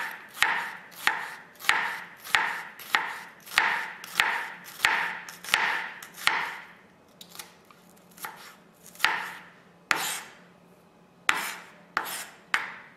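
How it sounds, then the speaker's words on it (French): A knife chopping a red onion on a board: about twenty crisp, evenly spaced cuts, close and clear, with a short pause midway before the quick strokes resume. "Alors on va simplement couper un oignon."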